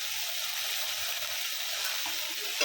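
Spice paste sautéing in hot oil with turmeric and salt for a potol chingri curry, a steady close broadband sizzle and hiss throughout with a few faint clinks near the end.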